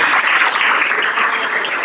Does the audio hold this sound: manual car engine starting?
no